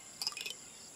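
A cartoon grasshopper gives a quick burst of high, buzzing chirps in a children's animated show, brief and fairly soft over a faint steady background hum.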